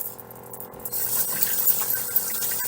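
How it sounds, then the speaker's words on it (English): Hands rinsed under a running kitchen tap, a steady rushing stream of water that swells in after a short quiet start and continues close by with no voices. "rinse off my hands a little bit"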